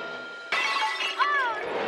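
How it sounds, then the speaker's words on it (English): A cartoon statue smashes apart with a burst of shattering glass, a bright crash that swells suddenly and rings on for about a second, with a voice heard alongside it. "And that is how Frankie, alone, smashed the statue"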